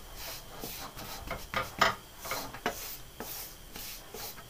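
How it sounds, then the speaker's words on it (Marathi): Hands mixing ghee into ragi flour for laddu, soft irregular rubbing and crumbly rasping with a few sharper scrapes, close and quiet. "तूप आणि पीठ छान मिक्स करून घ्यायचंय अशा पद्धतीने"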